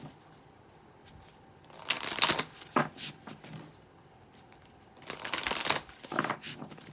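Tarot cards shuffled for a reading, two close bursts of crisp riffling and slapping with quiet gaps between, alone without speech.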